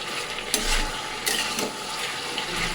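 Dried red chillies and cardamom sizzle and crackle in a hot pan while a utensil stirs and scrapes, with a few sharper scraping strokes.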